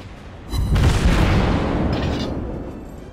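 A ship in a naval combat game takes an enemy hit, heard as a sudden heavy boom that swells into a loud, rumbling blast and then trails off over a few seconds, with no voices.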